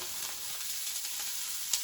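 Food sizzles and crackles quietly in a pan, a steady fizzing texture with one sharper pop near the end.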